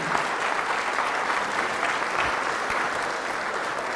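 Loud, steady applause from a church congregation for Jesus of Nazareth during a Catholic healing and conversion service, dense clapping filling the space without a break.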